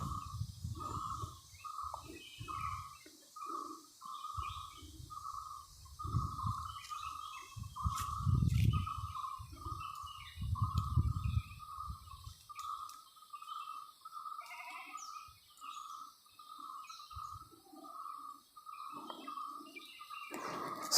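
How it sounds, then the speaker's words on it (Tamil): Small birds chirp steadily in a rapid repeating pattern around a remote house in a forested valley, with other distant calls and low rumbling background noise; no talking. "குருவிகளோட சவுண்டு தான்"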